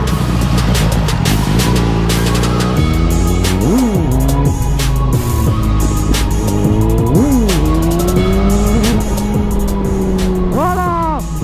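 A Suzuki GSX-R motorcycle engine revs hard through a wheelie, loud and close, its pitch climbing, dipping and surging again with each throttle change under steady wind noise.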